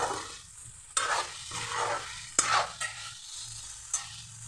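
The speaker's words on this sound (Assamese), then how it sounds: "অলপ সময় ভাজি থাকিম।" Potatoes and eggplant frying in a pan with oil, giving a steady soft sizzle broken by several sharp scraping knocks as the pieces are stirred. No voices are heard.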